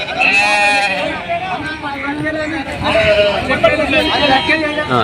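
Sheep bleat repeatedly and loudly at the Pebbair sheep and goat market, with several overlapping calls over a steady hubbub of crowd chatter and voices.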